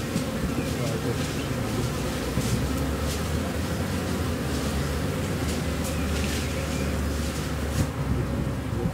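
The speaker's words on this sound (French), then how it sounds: "Un essaim comme ça qui se développe, c'est génial, quoi." Dense, steady buzzing of a honey bee swarm at its hive, a continuous near drone of many wings with no pause, a few individual bees flitting closer over the mass.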